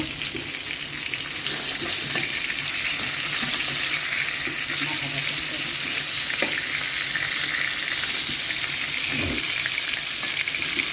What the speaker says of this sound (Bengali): আর এই আমি মাছ ভাজাটা বসিয়ে দিচ্ছি, মাছটা ভাজা হবে।